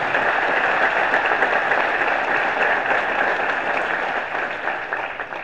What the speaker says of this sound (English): I want to give them a round of applause for all their hard work